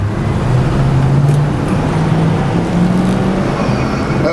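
A 1975 Buick Century Custom Colonnade coupe with a 350 V8 and two-barrel carburetor drives along, its loud, close engine drone rising slowly in pitch beneath steady road and wind noise.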